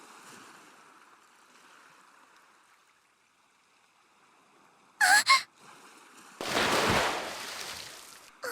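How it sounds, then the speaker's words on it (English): Ocean waves washing onto a beach in the video game Dragon Quest X, a soft swell building into a loud, close rush of surf near the end, preceded by quiet ambience and a brief burst of noise. "So the beach is hard to walk on, but the waves are so pleasant."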